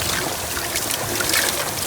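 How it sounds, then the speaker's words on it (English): Water trickles and splashes steadily from a roadside fountain sculpture made of odd junk pieces, a close, continuous bright babble with no voices. "You got this weird redneck kind of water fountain sculpture."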